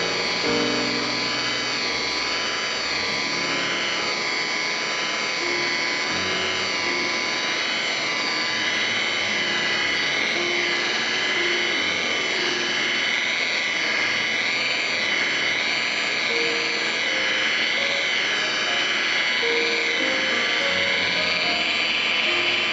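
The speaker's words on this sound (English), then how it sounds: "going to use a wool pad on a DeWalt buffer at about 1500 RPM." DeWalt buffer spinning a wool pad at about 1500 RPM while polishing Audi Q5 paint to remove a blend line, a loud continuous whining drone with slowly wavering pitch, close and steady with no speech.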